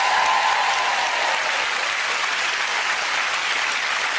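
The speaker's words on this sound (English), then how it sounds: "Give them a big round of applause." Studio audience on a TV family game show gives loud, dense, unbroken applause that fills the room at an even level from start to finish.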